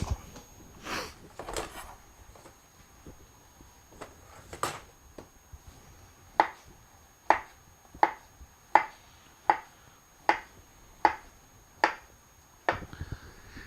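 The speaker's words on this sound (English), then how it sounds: "now we have our frozen bananas all ready to be cut up" Frozen bananas being cut up in a home kitchen: a string of about ten sharp, evenly spaced knife chops strikes the board in the second half, after a few scattered softer knocks, with no talk.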